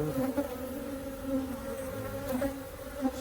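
Honey bees buzz around an open hive during an inspection, a steady, close, continuous hum with many wings in the air.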